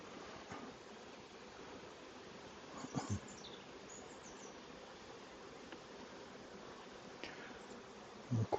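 Calm honey bees on the comb of an open hive make a soft, steady droning hum close by, with a few light knocks and clicks of handling the frames.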